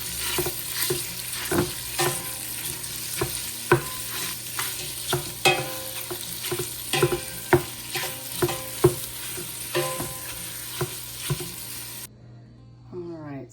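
White bean and Italian sausage soup being stirred in a pot, a soft simmering sizzle under a steady run of spoon clinks and scrapes, close by, ending in a brief quieter tail.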